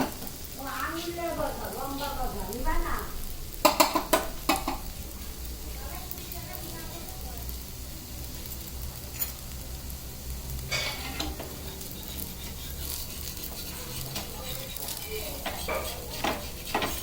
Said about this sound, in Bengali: খুন্তি দিয়ে চারদিকে নাড়া দিচ্ছ, তা নাহলে উঠবে না।